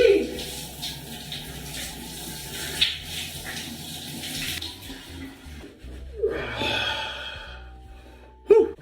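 Cold shower water runs and splashes close by, rising and falling as a person steps under it, with sharp gasps and snorts breaking through at intervals.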